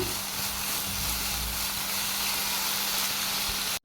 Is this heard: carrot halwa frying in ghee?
yes